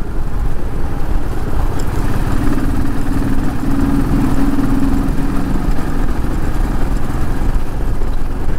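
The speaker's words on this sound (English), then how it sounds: "do you guys want to hear the rumble of a Royal Enfield in, under a flyover" A Royal Enfield Thunderbird 500 motorcycle rumbles beneath a flyover, its engine a steady, loud, low idling throb that holds evenly throughout with no voices.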